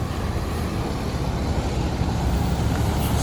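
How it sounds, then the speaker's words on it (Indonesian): A Brimob Anaconda police bus pulls in with a loud, steady diesel rumble close by, its engine droning continuously with no pauses. "Dan ini yang bis ketiga."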